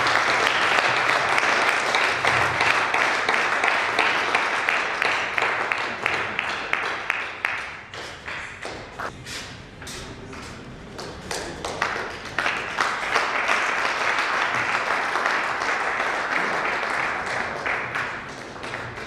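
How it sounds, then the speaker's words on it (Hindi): Loud, dense applause from an audience at a first-anniversary celebration for the business Atifresh Anmol, sustained for the whole stretch and briefly thinning midway before swelling again, with faint voices underneath. "आपकी जोरदार तालियों के साथ"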